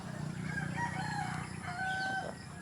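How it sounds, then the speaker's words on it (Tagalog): A backyard chicken crowing, a drawn-out cock-a-doodle-doo with a few clucks, close and moderately loud over faint ambient noise. "Good morning ang aking dalawang manok ko"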